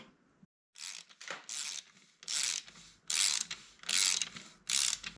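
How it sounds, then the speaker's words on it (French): A torque wrench ratchets in several quick, close bursts with short pauses between them while a bicycle's rear wheel axle is tightened to 15 Nm. "remettre la roue arrière, remettre l'axe, serrer au bon couple, et ici c'est 15 Nm"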